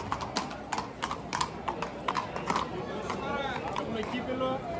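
Horse hooves clip-clop in quick, uneven bursts at a horse beauty contest during a village festival on Lesbos, sharp and close, while a crowd murmurs behind and a whinny-like tone rises near the end.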